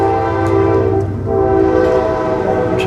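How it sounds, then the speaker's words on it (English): A passing train near Appomattox sounds its horn in a loud, sustained, chord-like blast over a rolling rumble of rail cars, with no talk during the clip. "Trains are busy. They've been rolling."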